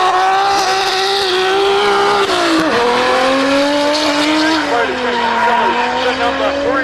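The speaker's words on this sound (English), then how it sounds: "I can hear the sweet, sweet sound of a high revving 2JZ." A Toyota 2JZ-powered time attack race car at a track event revving high, its loud engine whine climbing through gears with a shift dip midway, accompanied by faint tyre squeal.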